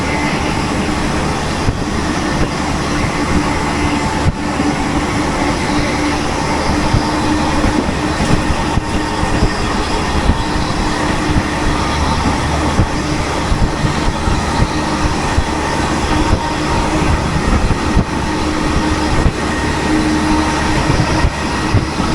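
Green Garib Rath Express running near Manmad station, a loud continuous rumble and rattle of the moving train with faint rail grinding, steady from start to end with no talk.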